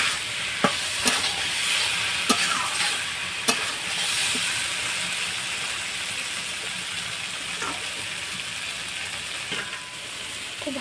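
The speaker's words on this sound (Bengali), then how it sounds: "আলু আর ডুমুরটা মশলার সাথে খুব সুন্দর করে এইভাবে নেড়ে নেড়ে একটু কষিয়ে নিতে হবে।" Potatoes and figs are stirred and fried with spices in a pan: a steady, close sizzle runs throughout, broken by sharp clicks and scrapes of the spoon against the pan.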